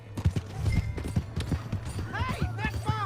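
Horse hooves in the Red Dead Redemption 2 video game: brisk clip-clop trotting, close and steady, with voices talking over it and a horse whinny near the end.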